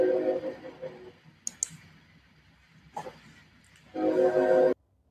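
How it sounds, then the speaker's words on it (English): A train passing right beside a station: a low rumble with sharp metallic clicks and squeals, then a louder sustained roar of rolling cars near the end that cuts off abruptly. "we are bringing you this broadcast right next to a train station, so don't be surprised at some of those sounds that you hear"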